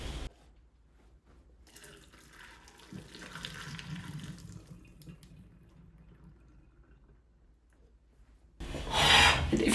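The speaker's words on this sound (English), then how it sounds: "And now we'll go ahead and drain them." Boiled potatoes being drained from a pot, with water pouring and splashing steadily for several seconds into a sink, then a louder, brighter rush of water at the end.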